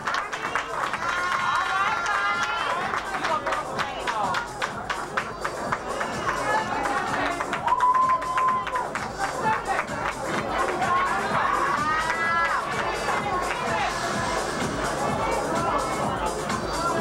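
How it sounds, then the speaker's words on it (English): An audience at a swimsuit competition of the Miss Metropolitan Continental pageant cheers, shouts and claps in a lively, fluctuating wave, with a host's amplified voice talking over the crowd noise. "Make some noise for Miss Fantasia."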